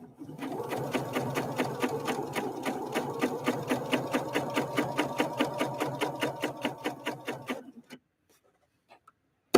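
A Husqvarna Viking Opal 650 sewing machine stitches steadily at a long stitch length, a fast even run of needle clicks for about eight seconds before stopping, followed by a few faint ticks.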